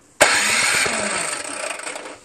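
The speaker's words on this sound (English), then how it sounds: "Okay, I'm going to start the electric start now." A new Craftsman snowblower's small engine, with a carburetor clogged by ethanol fuel, cranks on electric start and catches abruptly, then runs with a steady buzzing roar that gradually fades and sputters out near the end.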